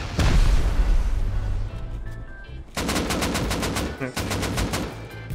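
Rapid bursts of gunfire in the survival game Rust, loud and close, with a dense volley at the start and a steady run of fast repeated shots later, mixed with some background game noise.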